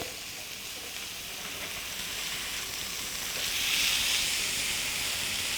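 Chicken steak sears on a grill, turned to brown both sides for a Mediterranean-style grilled chicken dish, giving a steady broad sizzle and hiss that swells slightly midway, close and continuous with no talking.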